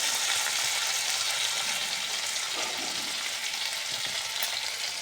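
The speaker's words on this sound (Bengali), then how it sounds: "তো পেঁয়াজ আর রসুনটা একটু ভাজা হোক" Onion and garlic fry in a pan for a bean and potato fish curry, giving a loud, continuous close sizzle with a few soft stirring scrapes and no voices.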